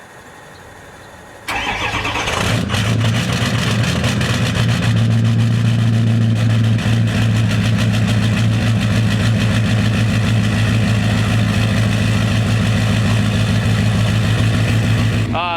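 Ford F250 Platinum with a 6.0 Power Stroke diesel cold-starts after a quiet moment: a short crank, then the engine catches and settles into a loud, steady, rumbling idle that runs without letup.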